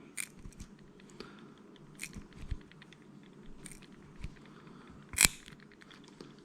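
Small trimmers snipping braided fishing line, a handful of sharp, quiet clicks scattered over a few seconds with one louder snap near the end, no talking.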